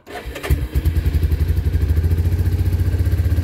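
Gasoline engine on a new water pump cranks and catches, then settles into a loud, close, steady rhythmic chugging idle, with no voices over it.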